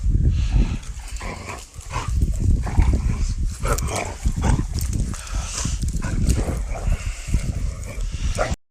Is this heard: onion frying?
no